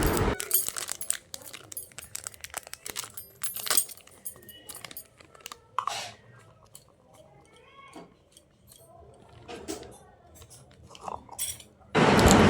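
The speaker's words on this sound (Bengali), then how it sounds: "লঙ্কার গুঁড়োটাকে দেওয়ার পর মশলাটাকে ভালো করে মিশিয়ে নিতে হবে একটা চামচের সাহায্যে।" A spoon clinks and scrapes against a bowl as Kashmiri chili powder and spices are mixed into a green chili pickle, sparse metallic taps and jangles spread across the clip with quiet gaps, ending in a loud burst.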